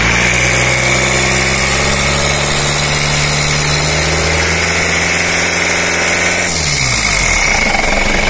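A Mitsubishi Pajero 4M40 diesel engine is held at high revs with a loud, steady clattering roar, then drops sharply back toward idle near the end, very close and without talk.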